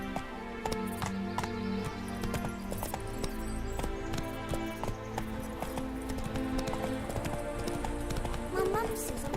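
Steady hoofbeats of Roach galloping in The Witcher 3: Wild Hunt, modded on PC, run under game music and spoken voices, with a faint whinny near the end.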